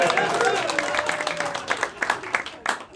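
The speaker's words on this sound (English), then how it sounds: "You can clap, come on." Comedy club audience at the Hastings Fringe Comedy Festival claps and applauds, a brief burst that thins into scattered claps as laughter and murmuring mix in.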